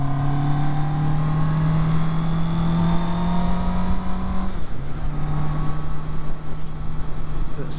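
A Honda CB650R motorcycle accelerates hard on an open-limit road on the Isle of Man, its engine note climbing through the gears with a shift partway through, loud and close over wind rush.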